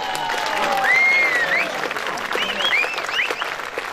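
An indoor audience at a festival in Deventer claps in a steady, dense wash of applause, with whistles and cheers rising above it.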